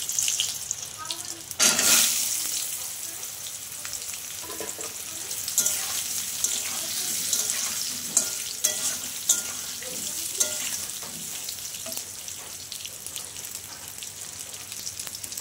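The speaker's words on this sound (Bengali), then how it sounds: "এখন আমি ওল আর আলুগুলো দিয়ে দিচ্ছি" Chunks of elephant foot yam and potatoes dropped into hot oil with a sharp burst of sizzling, then frying steadily in a pan with intermittent stirring clatters, close and moderate in level.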